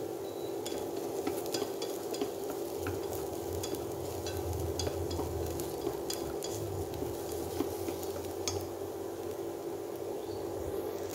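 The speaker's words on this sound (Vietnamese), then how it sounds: "Bây giờ mình cho nấm vào này, nấm đông cô tươi các bạn. Mình xào cho nó có cái mùi thơm." Fresh shiitake mushrooms stir-fry in a pan for a simple vegetarian chayote dish, giving an even sizzle with frequent light stirring scrapes and clicks throughout, heard close up and without talk.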